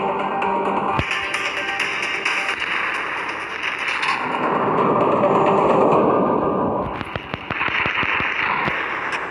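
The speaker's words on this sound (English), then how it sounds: "You fire at broadside cruisers and make them regret their decision for charging alone." The Yamato battleship fires its heavy main guns in a naval warship video game. Booming salvos and sharp cracks roll into continuous rumbling explosions, loud and dense throughout.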